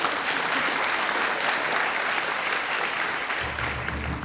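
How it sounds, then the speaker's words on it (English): A theater audience gives steady, dense applause for the stage manager at the end of a live show, a continuous wash of clapping that holds at full strength throughout. "Round of applause for Dana, our stage manager"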